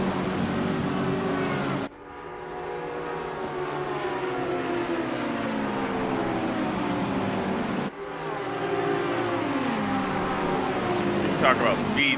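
Ferrari EVO GT3 race car in Assetto Corsa Competizione at Paul Ricard, engine droning loud and steady near top speed in sixth gear, pitch shifting with brief breaks, with someone talking over it.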